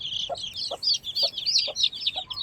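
On a poultry farm, hens and their chicks make a steady chorus of high, rapid peeping, punctuated by about five evenly spaced low clucks close by.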